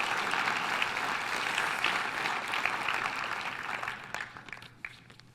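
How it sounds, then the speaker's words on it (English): A crowd claps steadily in a broad wash of applause that gradually thins out, leaving a few scattered claps at the end. "But give Jonathan a round of applause for taking on this role."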